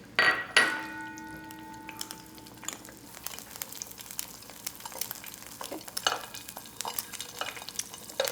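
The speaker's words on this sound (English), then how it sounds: "You want a little sizzle, but you don't want it spattering back at you." Soft, steady sizzling of an egg frying in a pan, with a clatter of a pan or utensil near the start and light scraping throughout.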